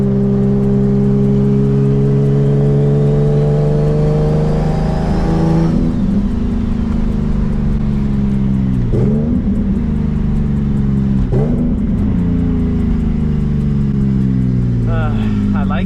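A Nissan Z's engine revs on its first drive, with a steady loud drone rising in pitch and then dropping, with several shifts or dips in the note and a continuous close engine roar throughout.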